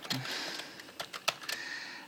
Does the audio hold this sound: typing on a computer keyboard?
yes